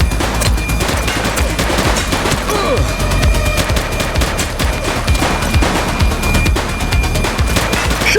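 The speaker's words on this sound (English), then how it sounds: "Shots fired!" Loud, relentless gunfire from a police shootout in The Precinct, with rapid automatic bursts and single shots layered densely throughout.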